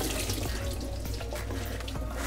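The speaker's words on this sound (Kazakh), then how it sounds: "Суы ағып кетеді." Water from cooked funchoza noodles rushes and splashes through a sieve in a continuous, close pour that lasts a couple of seconds.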